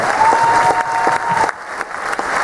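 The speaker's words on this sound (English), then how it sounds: "Big round of applause, come on." A crowd at a hypnotist's stage show applauds for the waiters and waitresses, with steady dense clapping throughout and no talk over it.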